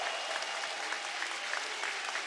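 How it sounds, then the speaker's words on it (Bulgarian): Stadium audience applause rolls on as a dense, steady patter of many hands clapping at a distance, with no voices standing out. "той се прибира под аплодисментите на публиката в тунела"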